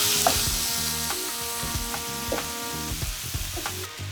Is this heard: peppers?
yes